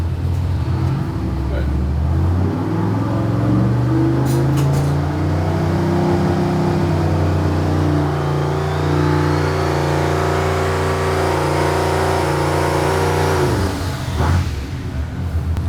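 Car engine on a dyno making a steady wide-open pull from about 3500 to 4500 RPM, loud and close with a rising drone for about thirteen seconds before dropping off.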